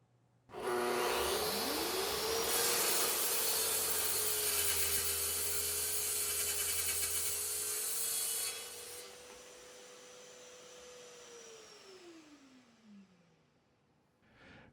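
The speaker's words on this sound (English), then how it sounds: "And then I'm going to use my parallel guide from TSO with my track saw to cut the" A track saw running along a parallel guide makes a crosscut through a wood shelf panel. The motor spins up, the blade cuts loudly for several seconds, and then the motor winds down, all close by with no talking.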